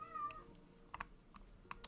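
Orange cat meowing in World of Warcraft, with one drawn-out meow up front followed by several short, quiet chirps and ticks against a faint background.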